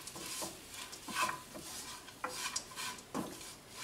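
A spoon stirs puffed rice upma with lemon juice in a pan, producing a series of close scraping and rustling strokes in an uneven rhythm, with a faint sizzle underneath and no voices.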